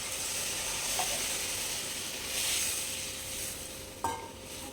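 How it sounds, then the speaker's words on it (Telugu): Tamarind juice hits fried masala for a Nellore-style fish curry. Steady frying sizzles loudly and hisses throughout, with a couple of brief clinks as it is stirred. "చింతపండు రసం వేసుకుందాం."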